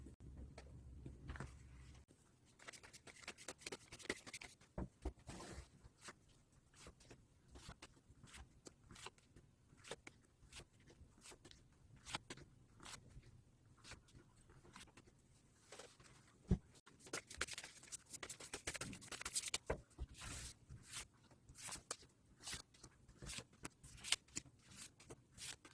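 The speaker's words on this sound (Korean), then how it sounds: "그럼 카드 셔플 진행해 보도록 하겠습니다" A deck of tarot cards being shuffled by hand, with quiet, irregular riffles and soft flicking slaps that come in bursts over a long stretch, close and faint.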